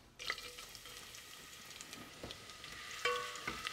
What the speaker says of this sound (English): Adding the sliced garlic.